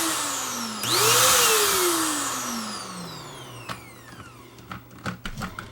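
A Bissell Power Stick vacuum cleaner whose power head is faulty spins up loudly with a rising whine. The whine holds for a few seconds, then winds down in pitch as the motor stops, followed by a few scattered clicks and knocks.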